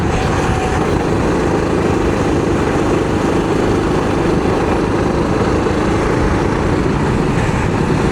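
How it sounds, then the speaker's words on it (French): A small kart engine on a practice run at a circuit, running steadily and loudly throughout with a buzzy, slightly uneven drone, heard alone without talk. "Ça ratatouille un peu le moteur."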